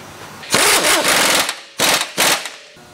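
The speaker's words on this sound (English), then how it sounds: "Now we're going to go ahead and tighten up the lower shock mount." An air impact wrench tightening the lower shock mount bolt during a coil spring install on a car suspension. It gives loud, close, rattling hammering bursts: one long run, then two shorter ones, and a brief final burst.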